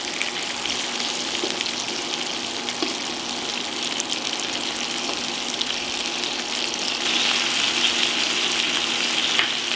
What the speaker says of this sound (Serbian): Džigericu okrećem na drugu stranu i pržim je isto 1 minut.